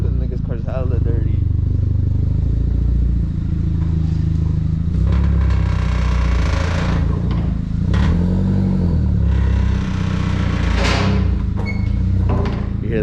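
A 20th Anniversary Edition MK4 Golf GTI idles close by with a metallic exhaust-leak rattle riding over its steady low rumble, continuous throughout, while people talk over it.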